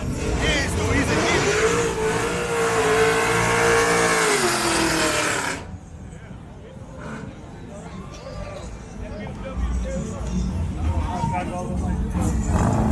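Motorcycle engine revved hard at a Breed Week bike night, a loud, sustained rising and falling roar that cuts off abruptly, followed by crowd babble and people talking nearby.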